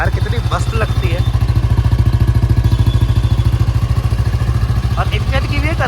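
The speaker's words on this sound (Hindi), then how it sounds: "बाकी बुलेट की आवाज़ देखो यार कितनी मस्त लगती है" An old Royal Enfield Bullet Electra motorcycle, restored and converted, idles with a loud, close, steady thumping beat from its single-cylinder engine, and someone talks over it at times.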